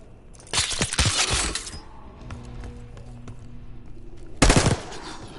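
Bursts of rapid automatic gunfire in Call of Duty: Black Ops 6, a long volley then a short one a few seconds later, with a low electronic hum between.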